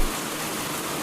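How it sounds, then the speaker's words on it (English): Steady rain ambience for a Dino Crisis tabletop game set in a park, a continuous broadband hiss of rainfall with no distinct drops, even and moderately loud throughout. "The rain thrumming down around you, the leaves shuddering."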